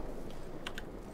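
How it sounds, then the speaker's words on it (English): A computer mouse button clicks to fire a plane's gun in short bursts in World of Warplanes, flying the Yak-3RD: a few quiet, sharp clicks in quick succession over a steady low background hum. "you might be able to hear me just kind of click click clicking"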